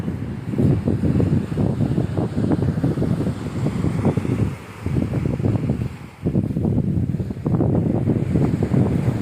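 Sea waves washing and splashing nearby in a steady churn, with gusty wind buffeting the microphone throughout.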